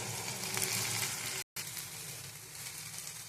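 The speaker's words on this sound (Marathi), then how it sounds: "कांदा आणि टोमॅटोची प्युरी मिक्स असं हलवून घ्यायचं आहे" Spices with onion and tomato puree sizzle steadily in a hot pan while being stirred for a chole curry, a close, continuous frying hiss with one brief cut to silence partway through.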